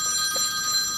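A smartphone ringtone mimicking an old-fashioned telephone bell, a bright sustained metallic trill ringing loud and close without pause for the full second.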